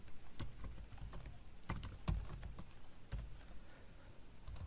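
Code is typed on a computer keyboard during a React tutorial, a quick run of close, crisp key clicks in irregular bursts with short pauses, no speech.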